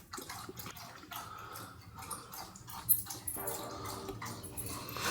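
A dog laps water in a holiday lodge, soft wet licking and dripping sounds close by, fairly quiet, with no talking over it.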